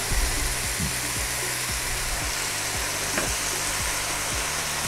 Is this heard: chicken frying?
yes